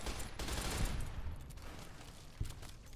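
Rapid gunfire in Fallout New Vegas, a dense rattling burst up front that fades into scattered shots and a final thump against background game ambience.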